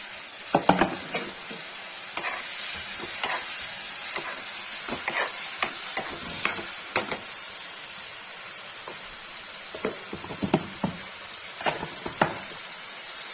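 Bitter gourd bhujia fries in a pan under a steady high sizzle, while a spatula scrapes and taps the metal at irregular intervals, sharp clinks standing out close by with no talk.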